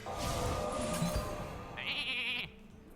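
A sheep bleats in a Hearthstone card game, Mage Arena mode, a single wavering electronic bleat over faint game background sounds, with a short burst of tone near the end.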